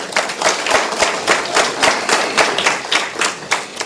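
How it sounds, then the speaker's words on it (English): Audience applause at a ministerial regional business engagement in the Erongo Region, Namibia: steady, close clapping from many hands that keeps a fairly even level throughout, with no talk over it. "Maybe we can give him a hand of applause."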